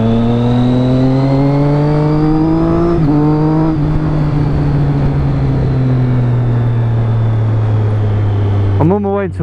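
A Triumph Street Triple motorcycle with a new exhaust drones loud and close at steady cruising revs, its pitch dipping and climbing slightly with small throttle changes over a continuous engine note.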